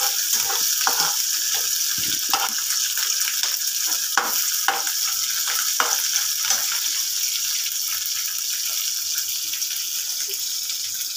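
Green chillies and onions sizzle in oil in a frying pan, with a steady loud hiss and a series of scraping stirs through the first half, and no talking.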